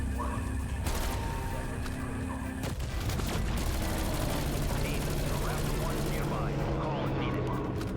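Gunfire rattles in Black Ops 6 Zombies as dense rapid bursts of shots and impacts, loud and continuous over other busy game sounds.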